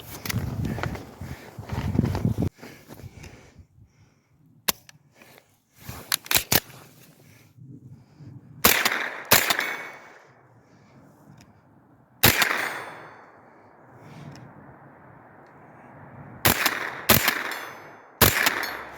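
A rifle fitted with a Primary Arms 5-25x56 scope fires at targets, with several sharp, loud cracks spaced irregularly and separated by quiet gaps and faint rustling handling noise.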